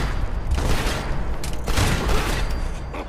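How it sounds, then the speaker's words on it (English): Rocket launcher blasts and explosions in Fallout 76, a couple of loud booming bursts with rumbling tails amid dense, continuous battle noise. "Why you guys gotta freaking have like rocket launcher up here?"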